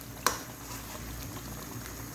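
Mutton karahi being stir-fried in a pan sizzles and bubbles steadily, with a single sharp clink of a utensil near the start, with no talking.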